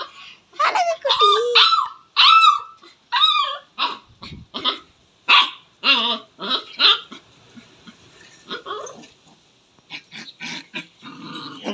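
A small puppy barks and yips in short repeated bursts close by, alternating with someone talking affectionately to it.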